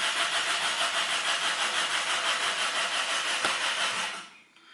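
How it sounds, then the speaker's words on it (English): A car's starter motor cranks the engine with a steady, rhythmic whirring for about four seconds, but the engine never catches, and the cranking cuts off near the end. No one speaks. "Only starter runs and rotates this engine."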